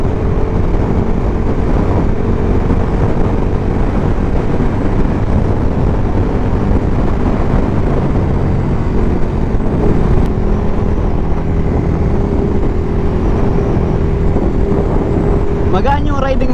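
A KTM Super Duke 1290 motorcycle at speed, its steady engine drone and wind rush filling the scene continuously, with a person talking over it.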